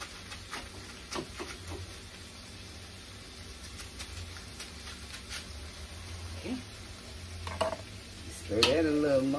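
Cabbage, bacon and sausages frying in their undrained fat sizzle steadily in a pan while a utensil stirs and scrapes in scattered clicks, with a brief louder clatter and voice-like sound toward the end.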